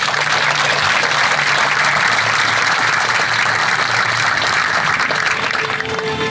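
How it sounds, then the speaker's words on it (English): A large audience at a city's State of the City address in Chula Vista applauds a homeless outreach team, a loud, sustained wash of clapping that fades slightly near the end, with no speech. "Please give our HOT team a round of applause"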